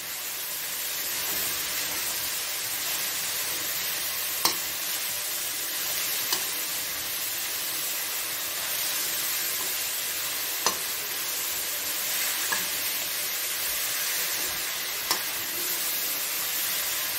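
Red amaranth (lal bhaji) stirred in a pan, a steady sizzle with occasional sharp clicks of the spoon against the pan, no voices.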